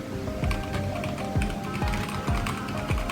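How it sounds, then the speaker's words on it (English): Keys clack on an AKKO mechanical keyboard in a steady stream of typing, with periodic heavier thocks from the spacebar or larger keys. "The sound of this keyboard is absolutely tremendous, like really."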